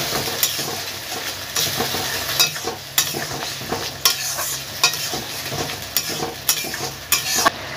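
Prawn dish ingredients stirred and mixed with water for a chilli prawn recipe, giving repeated scraping strokes at a steady rhythm over a soft sizzle, close and moderately loud with no talking.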